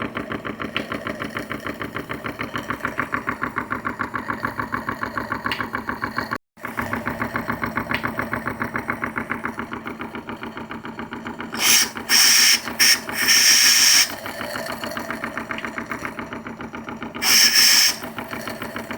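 A PM Research No 3 small stationary steam engine runs on a Roundhouse boiler with a fast, even mechanical chuffing that pulses steadily throughout, briefly cut once, with short bursts of a shrill steam hiss or whistle later on.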